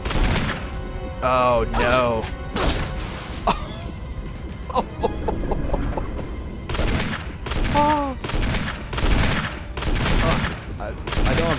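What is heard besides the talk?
gunshots in the video game Resident Evil HD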